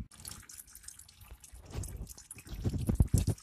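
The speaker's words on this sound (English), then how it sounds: "Drain out all the coolant" Coolant drains from the engine of a Miller Big 20 welder, an irregular trickle and splatter of liquid that grows into a louder, steadier pour near the end, heard close and alone.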